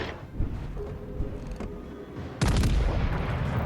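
Heavy naval gunfire in World of Warships Legends, a loud booming salvo bursting in near the end over a steady rumble of battle ambience.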